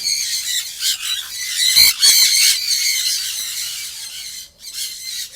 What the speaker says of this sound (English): Oh, the sun conures are really loud.